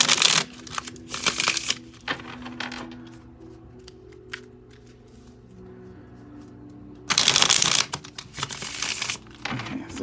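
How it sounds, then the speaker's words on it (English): A small deck of cards shuffled quickly in two loud, close bursts of riffling and fluttering, separated by a quieter stretch of faint handling clicks. "I'm going to do a quick shuffle, so sorry for your ears"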